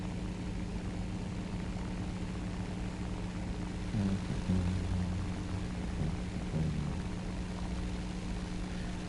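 In the War Thunder game, a P-51 propeller fighter dives as a steady, fairly faint engine drone and prop hum under broad wind noise, holding a constant tone throughout with a few brief tonal blips.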